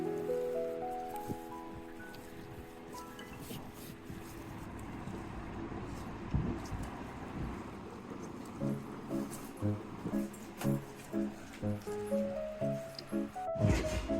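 Wet, squishy squelching of raw green mango being mashed and kneaded by hand with sugar, a steady run of soft slaps and squishes close up, growing into a rhythmic pulsing of repeated presses toward the end.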